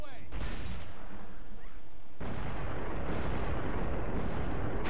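Cannons fire at the Claw of Jormag in Guild Wars 2 in a dense, continuous barrage of booming blasts, rising to a loud, sustained roar midway, with voices in the mix.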